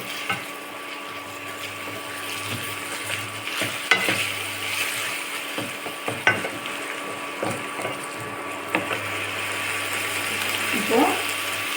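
Green chili and onion sauté in a pan for a mung bean gravy, with a soft continuous sizzle and scattered scraping strokes of a spoon stirring, while a voice talks over it now and then.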